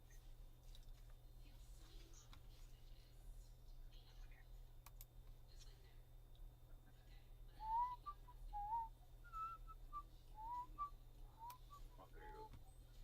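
A person outdoors whistles a few faint, short rising-and-falling notes in imitation of a hawk, over a low steady background hum.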